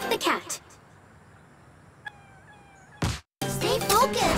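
A cartoonish cat meows in the WarioWare: Move It! microgame, short synthesized tones heard between bursts of game effects and music.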